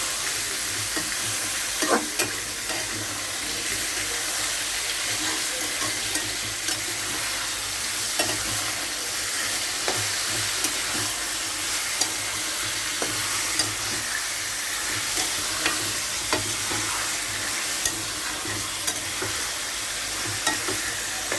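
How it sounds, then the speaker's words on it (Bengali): Meat frying in oil and spices in a pan, a continuous loud sizzle close up with occasional light knocks and scrapes as it is stirred, and no voices. "এখন এটাকে ভাজা ভাজা করবো।"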